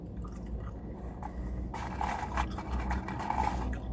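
Crunchy McDonald's vegetable fries chewed up close, a steady run of soft crisp bites and squishy mastication, quiet and alone with no talk.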